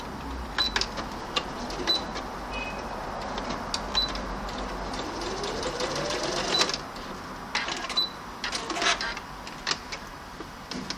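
A home sewing machine with a thread-cutter function stitches while its bobbin thread tangles underneath, giving a busy run of close mechanical clicks, whirs and short rattling bursts that start and stop throughout.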